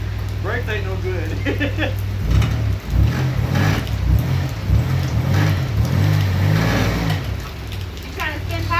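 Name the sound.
car engine revving while trying to spin the tires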